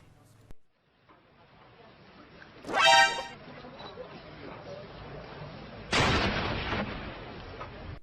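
Two loud, sharp grenade blasts a few seconds apart, each with a harsh burst of noise that trails off into rumbling background, heard from a moderate distance.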